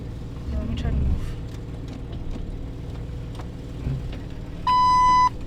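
A Jeep Wrangler TJ's parking brake warning chimes as a short run of steady electronic beeps near the end, over a low idling engine hum, with people talking nearby.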